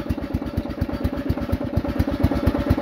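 A Husqvarna LT112 riding mower's small engine idles low while the mower drives along, putting out a steady rhythmic putter of evenly spaced pulses, close and fairly loud, with no one speaking.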